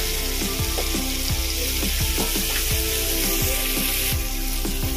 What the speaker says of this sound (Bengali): এবার এক এক করে যে মাছগুলো আমরা ম্যারিনেট করে রেখেছিলাম সেগুলো দিয়ে দেব।